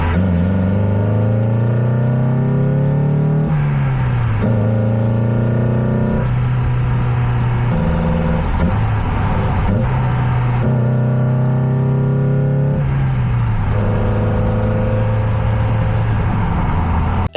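A Mazda Miata engine fitted with a Racing Beat induction kit rises and falls through several loud revving pulls, with a throaty intake roar and pitch dropping between shifts.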